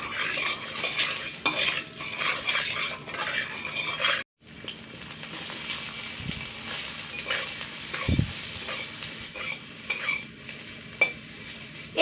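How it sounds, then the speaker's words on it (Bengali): Soaked soya chunks fry in a little oil seasoned with salt and turmeric, a continuous crackling sizzle with spoon scrapes against the pan and a short gap partway through. "এই অল্প তেলেই সয়াবিনগুলোকে ভেজে তুলে নেব।"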